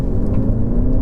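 A Mercedes CLE 300e plug-in hybrid accelerates in sport mode on a road, giving a loud, steady low engine rumble and whir from inside the car, with no talking.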